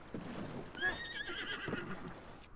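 A horse whinnies in The Legend of Zelda: Breath of the Wild, one clear rising and falling neigh near the middle, faint and fairly close, over quiet game ambience.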